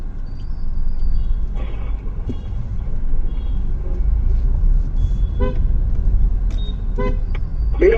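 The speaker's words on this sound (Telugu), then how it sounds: "మీరు అటు కార్లు హార్న్ కొట్టద్దండి బాబు." Car horns honk in busy street traffic, several short toots and longer blasts from different vehicles over a constant engine rumble, some close and loud, others farther off.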